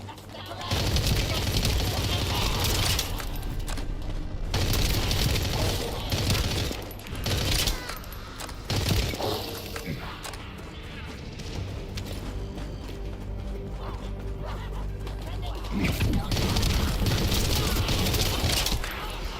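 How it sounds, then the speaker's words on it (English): Tactical rifle in The First Descendant firing in bursts and sustained full-auto strings, loud and dense gunfire filling nearly the whole stretch with brief gaps between volleys. "So this tac rifle is burst and full auto."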